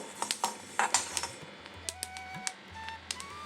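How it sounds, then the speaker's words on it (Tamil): Rapid, irregular little pops and crackles of sesame seeds in a hot pan, close and fairly soft, scattered over a low steady hum. "இப்போ எள்ளு பொரிய ஆரம்பிச்சிச்சு"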